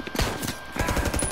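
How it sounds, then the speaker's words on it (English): Rapid automatic gunfire from the video game Mafia: Definitive Edition rattles in a quick burst, dense and close, with no talking over it. "I'm gonna shoot through her."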